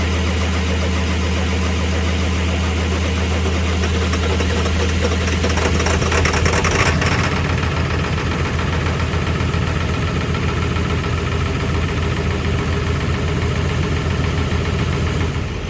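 A Ford Excursion engine idles after a cold start, a steady low rumble with a faint rhythmic knock throughout, close and continuous with a brief louder rise partway through.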